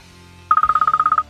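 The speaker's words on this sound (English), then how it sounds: "And of course the phone rings." A phone rings with a rapid electronic trill of about fourteen evenly spaced, loud, bright pulses, preceded by a low hum.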